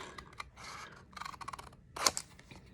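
Scissors snip around a paper bunny shape for a wood bead Easter garland, giving quiet, close crisp cuts in an uneven rhythm, with one sharper snip near the end.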